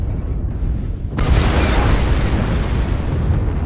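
An artillery strike in the video game DV-6M, Hibernal Rift, hits as one loud booming explosion after a second of low rumble, then a sustained roaring wash of blast noise.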